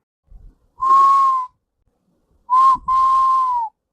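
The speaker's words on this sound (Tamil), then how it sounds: "என்ன விசில் அடிச்சுக்கிட்டே வர?" A person whistles two steady mid-pitched notes, the first about half a second long, then a short note and a longer one after a pause. The whistling is close and clear against silence.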